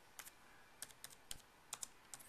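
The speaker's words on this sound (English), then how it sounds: "I'm just going to type in party" Keystrokes on a computer keyboard while entering a crate name in DJ software: short clicky taps in a few quick bursts, close and alone, with no talking.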